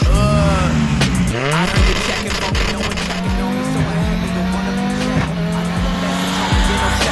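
An Audi Sport Quattro S1 rally car with 500 horsepower drives hard, its engine loud and close with rising and falling revs and gear shifts, tires squealing throughout.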